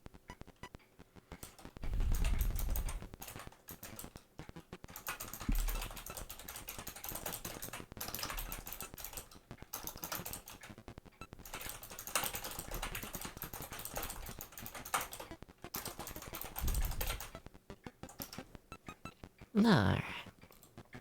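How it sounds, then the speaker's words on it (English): Close-miked typing on a computer keyboard, a long run of quick, irregular key clicks with brief pauses and a few louder bursts, at fairly low level with occasional faint background noise. "It's time for the typing noises ASMR part of the stream."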